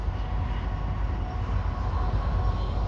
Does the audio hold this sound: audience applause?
no